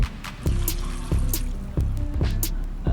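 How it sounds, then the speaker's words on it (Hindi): A glass of water is poured into a pressure cooker while daal mash is being made, producing close, repeated splashing pours in short bursts roughly every half second, with sharp droplet splashes over a steady liquid gurgle. "1 गिलास पानी का डालेंगे हम इसमें"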